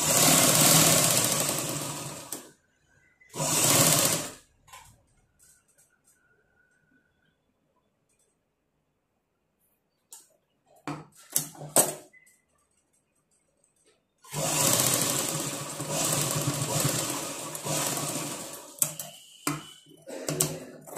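A sewing machine stitches a cross strip onto a blouse neckline in short loud bursts, a running whir near the start and a longer stretch near the end, with quiet pauses and light clicks between.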